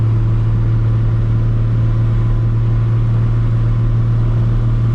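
A Toyota MKIV Supra with a new 1600 HP engine cruises at steady speed, its engine a constant low drone with a firm, unchanging tonal hum from inside the cabin, no revving or shifts, alone without talk.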